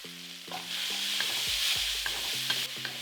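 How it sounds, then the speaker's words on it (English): Red onions sizzling in a pot over chicken fond while being stirred, with a steady frying hiss and occasional utensil scrapes and knocks against the pot bottom. "Let the onions cook"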